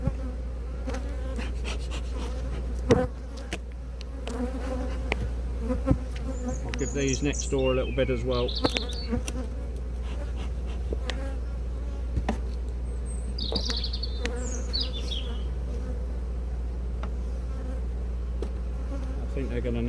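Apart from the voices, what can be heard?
honey bees buzzing around a hive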